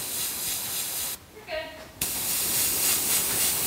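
An airbrush sprays Contrast paint onto a miniature model with a steady, close, broadband hiss, broken by a short pause under a brief voice before the spray resumes just as loud.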